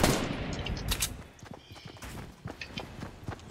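Gunfire rings out in a Fortnite duos match, with scattered sharp shots and rapid clattering bursts mixed with running footsteps at moderate loudness and no talk.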